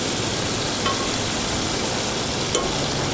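Food sizzling and frying steadily in a pan, probably a Dutch oven, with a couple of faint soft knocks of it being turned over, close and continuous.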